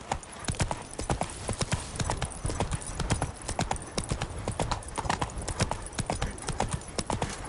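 Roach, a horse in the video game The Witcher 3, trotting with a steady, rhythmic clip-clop of hooves close by, continuous under a low ambient background.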